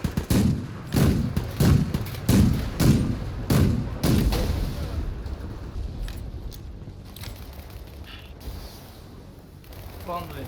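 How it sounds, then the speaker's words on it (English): Rocket strike on a vehicle in the shooter World War 3, a loud run of heavy explosive bangs and rattling gunfire in quick succession, easing into lower rumbling combat noise and mechanical creaks. "I hit him with a rocket."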